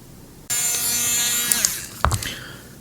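Small hand or power drill boring through a plastic Astra Militarum Chimera miniature part to fit a magnet: a steady high whine runs for about a second, then the tone drops away, ending in a few clattering knocks.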